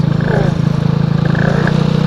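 A two-stroke Honda Elite scooter engine idles close by with a loud, buzzy, rapid pulsing putter, its pitch wavering slightly as it runs, while people talk briefly nearby.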